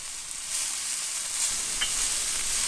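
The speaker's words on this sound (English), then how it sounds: "We've got burgers cooking." Burgers sizzle on a gas cooker in a polytunnel kitchen, a loud, close, continuous hiss that swells slightly partway through.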